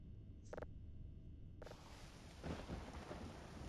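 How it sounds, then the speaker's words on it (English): Rain and thunder in the video game Voices of the Void, with a couple of sharp crackling bursts early and then a broad rumbling storm and rain wash growing louder. "Oh, it's raining."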